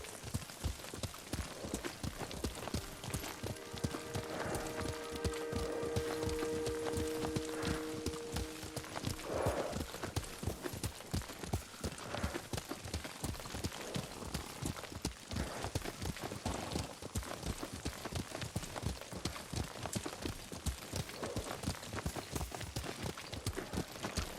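Rapid, steady hoofbeats of a horse in Ghost of Tsushima clip-clop throughout at a running pace, with a few sustained musical tones in the middle part and no speech.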